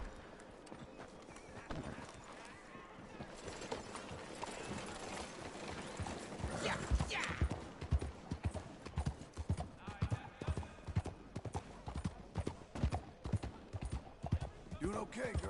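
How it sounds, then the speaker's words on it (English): Horse hooves in Red Dead Redemption 2 clop steadily, growing more prominent in the second half, with game dialogue and talk running over them. "Voy a pillar el caballo."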